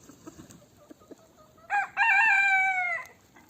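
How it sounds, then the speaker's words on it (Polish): A farm rooster crows loudly and close by in a single drawn-out call, preceded by brief clucks and soft farmyard noise, with no talking. "Kto tak pieje, to kogucik nasz, tak?"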